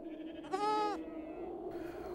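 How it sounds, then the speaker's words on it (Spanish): A single wavering sheep bleat rises clearly for about half a second, then fades into a soft, steady background bed. "vivió como pastor de ovejas por 40 años"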